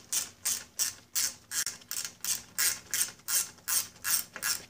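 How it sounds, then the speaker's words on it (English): A hand ratchet backs bolts out of the lower unit of an Evinrude XP 175 HP outboard, clicking in about twelve even, close bursts of rapid pawl ticks with no talk. "put my finger on the back to hold it as I ratchet it"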